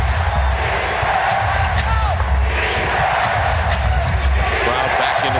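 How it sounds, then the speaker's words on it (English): An arena crowd at a 2000 NBA playoff game between the Bulls and Jazz roars and cheers continuously, a dense steady wash of noise under an excited commentator's voice, with a few sneaker squeaks and bounces. "Crowd back into the game here initially."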